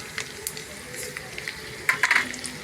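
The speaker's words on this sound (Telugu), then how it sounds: "ఇదిగోండి కొంచెం నువ్వులు వేద్దాం." Sesame seeds hit a hot pan while beetroot halwa cooks, giving a faint, soft sizzle with a few light crackles and a brief cluster of pops toward the end.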